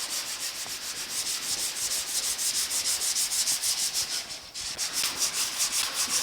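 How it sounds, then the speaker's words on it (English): Rapid back-and-forth hand sanding with 80 grit sandpaper roughs up the door of a 1950 Chevy truck before glazing putty, a close, loud, rhythmic rasping of even strokes with one short pause partway through. "we're going to rough up the area with some 80 grit"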